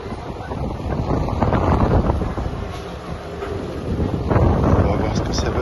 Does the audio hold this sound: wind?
yes